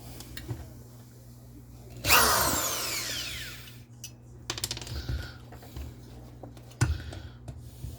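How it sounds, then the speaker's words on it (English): A power drill, being set up while a ceiling fan is scrapped, gives a short loud whir that winds down. Metallic clinks and handling knocks follow, with a low steady hum underneath. "Took me some time to get my drill set up."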